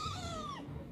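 A single drawn-out cat meow, close and clear, falling in pitch before it fades.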